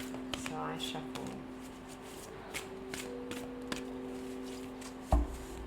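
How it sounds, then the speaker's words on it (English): Tarot cards are shuffled by hand in quick soft riffling bursts and light taps, faint and close, under a quiet speaking voice. "So I shuffle."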